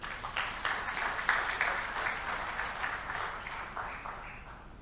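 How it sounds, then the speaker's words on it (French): Audience applause greets a Belgian minister of state arriving to speak at a formal conference, a moderate crowd of clapping hands with some uneven individual claps, steady across the few seconds. "sous vos applaudissements, s'il vous plaît"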